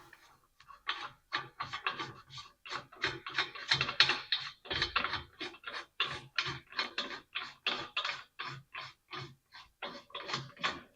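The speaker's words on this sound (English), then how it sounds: "So now we've got to get rid of these bolts" Bolts being undone on a set of sheet metal rollers: a busy run of quick, close clicking and ratcheting strokes, steady and rhythmic throughout, with no voices.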